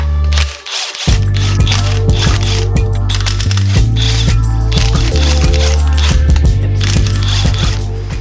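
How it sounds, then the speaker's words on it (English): Metallic ratcheting clicks and gear-like mechanical rattles from a ratcheting wrench turning an engine bracket bolt on a Nissan 350Z VQ35DE motor, loud and busy, running almost continuously after a brief pause near the start. "Probably use a ratcheting wrench though on that bolt."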